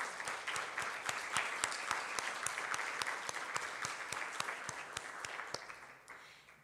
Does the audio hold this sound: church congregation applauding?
yes